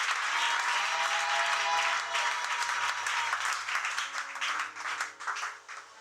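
A church congregation applauds loudly at a French-language service, a dense wash of clapping that holds strong for a few seconds and then thins out and fades toward the end.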